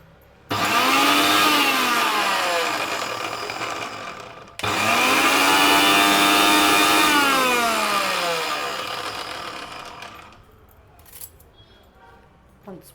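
A mixer grinder grinding sweet paan ingredients whirs loudly in two long bursts, its motor pitch dropping as each run slows, then stops and leaves faint handling sounds.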